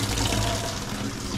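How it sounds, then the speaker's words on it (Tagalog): Water runs steadily from a coin-operated tap, a loud, continuous splashing gush close by with no voices. "Labas ng tubig."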